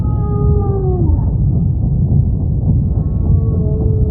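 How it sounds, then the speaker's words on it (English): A humpback whale mother with a newborn calf calls underwater in long, smooth tonal moans and downward-sliding whistles. The calls fade out midway, then return faintly over a low, constant ocean rumble. "We matched it to a humpback known as Demi"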